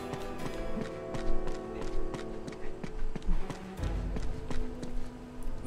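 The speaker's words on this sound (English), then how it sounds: "Now all we need is a horse." Horse hooves clip-clop in the video game Uncharted 2: Among Thieves, with a quick irregular patter of close, hard taps over steady game background sound.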